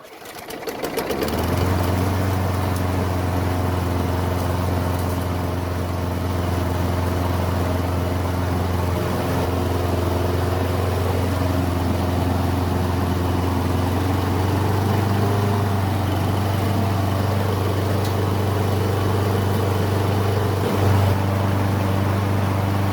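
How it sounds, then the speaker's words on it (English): A lawn mower engine hums steadily and continuously up close, with its governor spring pulled to raise the speed; the droning tone holds nearly constant, with only a slight shift partway through and no voices. "I'm going to start the engine and then pull on the governor spring anchor just a bit"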